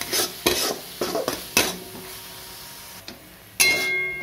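A spoon stirs masala with garam masala, Kolhapuri onion-garlic chutney and besan frying in oil in a pan, giving repeated scraping strokes over a steady low sizzle, near and fairly loud, with no talk.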